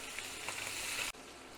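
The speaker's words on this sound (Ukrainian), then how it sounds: "А тут наша сковорідка заспівала, зашкварчала і підняла нам настрій." A frying pan with meat and spices sizzles briskly up close, a dense crackling hiss that cuts off abruptly near the end.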